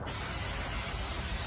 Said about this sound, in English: I'm just going to spray a little bit in the center